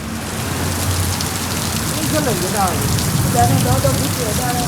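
Heavy unseasonal rain pours steadily outdoors, a dense, even hiss of drops on surfaces throughout, with faint chirps and distant background sounds above it.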